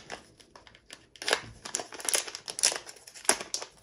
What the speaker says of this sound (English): Let me cut this open here.